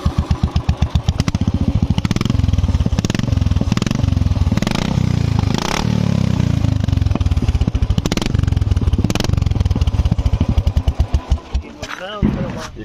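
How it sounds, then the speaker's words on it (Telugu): A Royal Enfield Classic 350 motorcycle runs with its exhaust silencer removed, giving a loud, raw, rapid thumping close by that steadies into a rough idle, then fades and cuts out near the end. "వితౌట్ ఎగ్జాస్ట్ అయితే సౌండ్ వినండి"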